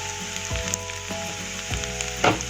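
Onions fry in oil until browned, a steady close sizzle broken by a few sharp scraping stirs of a spatula, with no voices over it.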